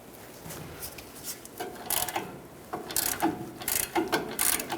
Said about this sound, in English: From underneath, use an 18mm socket and unthread this mounting nut, holding the bottom of the shock onto this stud.